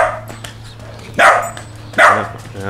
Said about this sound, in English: That's a dog from yesterday.